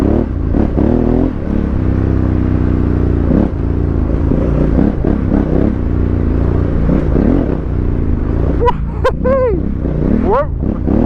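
A Honda Africa Twin motorcycle rumbles steadily while being ridden, its engine loud and close throughout, with a few rising whines near the end.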